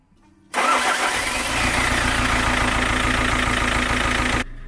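A 2.3 litre diesel van engine cranks on a jump starter and catches almost at once, settling into a loud, steady rattling idle that runs for several seconds before the sound cuts.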